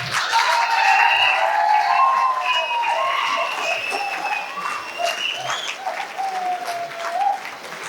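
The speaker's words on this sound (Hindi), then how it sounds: "जोरदार ताली" Loud applause from a conference audience, steady dense clapping filling the whole stretch, with high tonal whistles or calls riding over it and voices mixed into the crowd noise.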